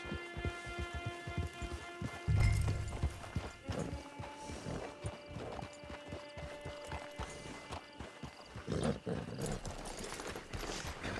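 Horse hooves clip-clop in steady, rhythmic footfalls while a rider travels toward a camp in the video game Red Dead Redemption 2, heard close and mixed with faint game ambience.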